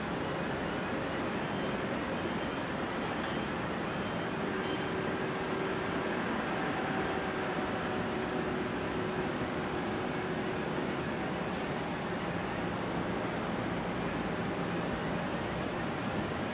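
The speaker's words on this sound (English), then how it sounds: "Ryan Garland saying the Emirates A380 is departing to Dubai at 9:40 p.m." A steady, broadband engine roar from an Emirates A380 airliner departing Sydney Airport on a foggy night holds at a constant, fairly loud level throughout, with no voices.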